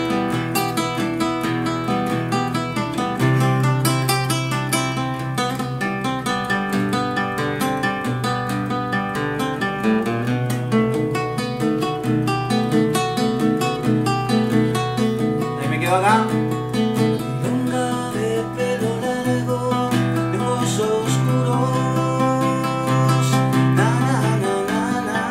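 Guitar intro to a milonga, plucked melody over a steady low bass pattern, moderately loud and close, played alone without talking.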